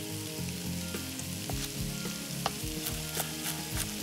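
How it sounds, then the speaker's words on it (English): A hot pan sizzles steadily as white wine goes in to deglaze it for a sausage ragu, with a few sharp utensil clicks and scrapes over the dense, continuous frying hiss. "We're gonna deglaze with a little bit of white wine."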